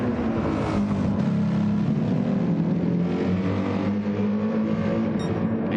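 An AMG GT race car in a racing video game, a Le Mans 24-hour endurance event, drones with a loud, steady engine note that rises and falls slightly as it runs, with no voices.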